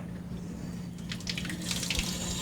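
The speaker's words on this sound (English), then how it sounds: "and I'll turn the water on for you." A sink tap runs in a college life sciences lab, with a steady hiss of water over a low background hum, growing slightly brighter and splashier as hands move under the stream.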